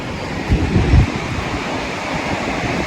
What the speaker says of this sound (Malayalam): വെള്ളം ചാടുന്നുണ്ടല്ലേ, എന്ത് ഫോഴ്സിലാണ് വെള്ളം ചാടുന്നത്